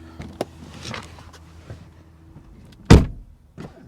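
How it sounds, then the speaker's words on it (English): A 2020 Mercedes-AMG CLA 45 car door thuds shut with a solid, close clunk, preceded by faint clicks and handling noises; a softer knock follows. "Let's quickly listen to the door open and close sound"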